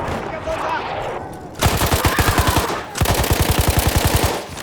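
Two bursts of rapid SMG fire in the game Battlefield 1 rattle out close and loud, each a quick evenly spaced string of shots lasting over a second, following a short stretch of quieter battlefield noise.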